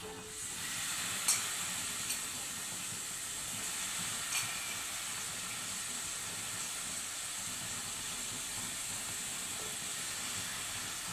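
Onion and tomato frying in a pan, a steady close sizzling hiss throughout with a few faint clinks, and no talking.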